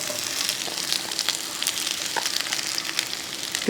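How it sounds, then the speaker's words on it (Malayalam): Sliced onions sizzle in hot oil with garlic and green chilli while being fried for bitter gourd mezhukkupuratti, a steady close crackle with small pops throughout. "ആ വെളുത്തുള്ളി പച്ചമുളകൊക്കെ ഒന്ന് മൂത്ത് വരുമ്പോഴത്തേക്കും ഈ അരിഞ്ഞ് വെച്ചേക്ക് സവാള അങ്ങോട്ട് കൊടുക്കാം"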